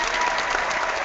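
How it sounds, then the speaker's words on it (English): An audience at a live chat show breaks into brief, dense clapping, a loud, even burst of applause lasting about a second. "Let's clap."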